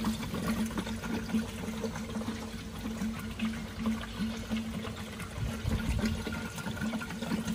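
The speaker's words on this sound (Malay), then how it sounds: "Sampai hilang bunyi gelembung air ni, menandakan gas dalam sistem kereta kita ni sudah kosong lah" Continuous bubbling and gurgling of refrigerant gas released from a Nissan Serena's air-conditioning system and forced through water, a steady busy burble with no voices.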